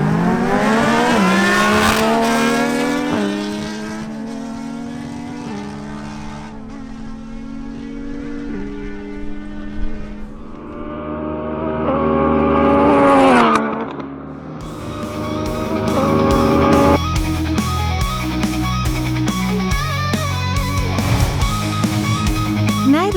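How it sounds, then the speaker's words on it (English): A Yamaha MT-09 and a Kawasaki Z1000SX drag race, loud engines revving hard through rising gear changes, then easing off briefly before roaring back, with a lot of overlapping engine noise and no speech. "Next up, Tatiana Rosenthal on her Yamaha MT-09 races against Martin Correa on his Kawasaki Z1000SX."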